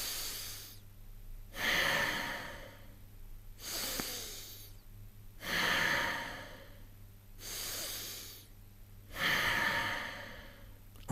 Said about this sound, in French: Vous allez inspirer par le nez et expirer par le nez.